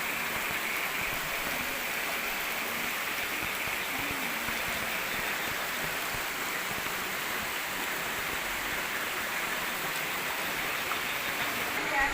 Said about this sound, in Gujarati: હજી જો વરસાદ એકદમ ચાલુ છે અત્યારે